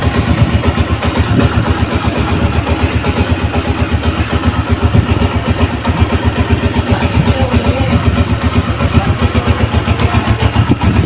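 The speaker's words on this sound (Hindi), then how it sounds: "मैं इंजन के करीब मोबाइल करके आपको साउंड भी सुना देता हूँ।" A modified 1985 Honda CG 125 motorcycle engine idles up close, a fast, even chugging pulse that holds steady and loud throughout.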